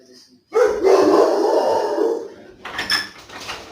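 A dog named Pépito barking indoors, a loud, close, sustained burst of rough barking that tapers off, followed by a few fainter yips.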